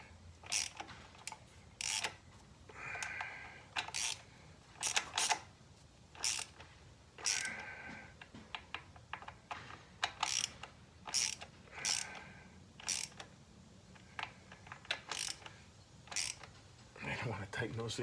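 A ratchet tightens bolts on the shifter arm of a 1990 Harley Electra Glide EVO, clicking in repeated short bursts up close. A voice is heard now and then between the strokes.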